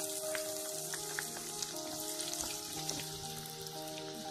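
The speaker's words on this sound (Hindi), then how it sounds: "तेल गर्म हो जाए कि हम इसमें डालते हैं थोड़ा सा जीरा और साथ में हम डालेंगे एक प्याज बारीक कट किया हुआ" Cumin seeds and finely chopped onion frying in hot oil for a vegetable dish, giving a steady, even sizzle with small crackles throughout, fairly quiet and close, with no talking.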